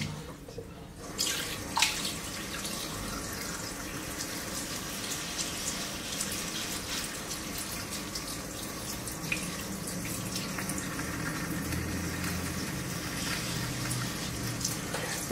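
Steady stream of water running from a sink tap over a cartridge razor during a head shave, a continuous soft rush with faint splashes and drips, no talking.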